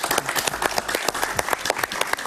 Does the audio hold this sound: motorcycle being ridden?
no